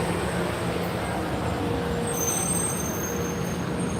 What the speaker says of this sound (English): Listen to how loud that bus is.